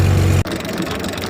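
Antique tractor engine idling with a steady low rumble, then cut off abruptly after about half a second, leaving a quieter mechanical wind-down.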